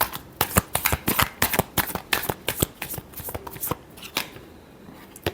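Tarot cards being riffled and shuffled close by, a fast run of crisp slapping flutters in bursts that slow toward the end, with no voice over them.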